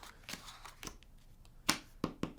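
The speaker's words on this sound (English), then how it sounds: "After the dealer shuffles, they deal out 8 cards in the direction of play" Playing cards from a 400-year-old card game are shuffled and dealt by hand, heard as soft riffles and brushing followed by several sharp card snaps and flicks, close and quiet, with no talk.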